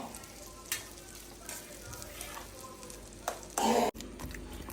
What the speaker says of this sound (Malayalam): ഇനി നമ്മൾ ഒന്നും കൂടെ ബട്ടർ ഇട്ട് നല്ലോണക്ക് ബട്ടർ അലിച്ചെടുക്കുന്നുണ്ടേ